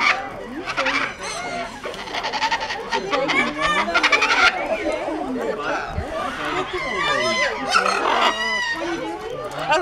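Flock of hungry birds at Parrot Mountain, a busy mix of loud squawks, chatter and calls close by, with people talking among them.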